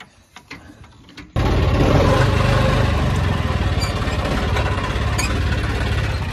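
A Massey Ferguson tractor engine idles close by, starting with a few clicks before a loud, steady rumbling chug settles in and holds to the end.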